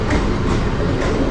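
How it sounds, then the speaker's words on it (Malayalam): A Mumbai local train passes close by, a loud continuous rumble and clatter of wheels on rails filling the whole moment. "ഇതാണ് മുംബൈയിൽ മാത്രം വരുന്ന ലോക്കൽ ട്രെയിൻ."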